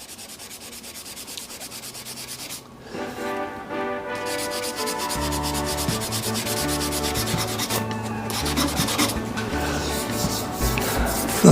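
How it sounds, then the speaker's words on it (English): Hand sanding an African Zebrano wood pen blank spinning on a lathe: a steady, close abrasive rubbing hiss over the lathe's constant motor hum, continuous and unbroken, with no voices. "we'll just give that a little bit of a hand sand there now, because there is a little bit of a bump there"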